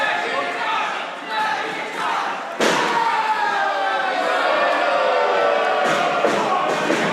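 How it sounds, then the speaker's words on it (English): A Brooklyn wrestling crowd roars and cheers throughout a multi-man match featuring Talon, Teddy Hart, Bobby Wayward and Matt MacIntosh, with a sharp slam-like impact near the middle lifting the steady, dense crowd noise. "Wayward trying to get the approval of this Brooklyn crowd."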